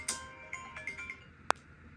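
A phone rings with an incoming call at night: short electronic ringtone chimes in a steady rising pattern, then a sharp click, close by in a quiet room.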